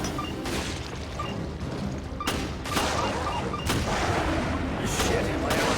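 Gunfire in the video game Resident Evil: Revelations: several loud, sharp shots crack out at irregular intervals over a dense, noisy game soundscape.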